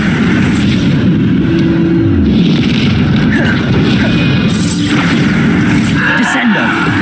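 Bombarda blasting spells explode in the Hogwarts Legacy video game as a loud, dense roar of booming crashes that runs unbroken throughout.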